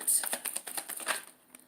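Cards from a divine timing oracle deck are shuffled and drawn, giving a quick run of crisp papery flicks and taps, close and fairly loud, fading at the end.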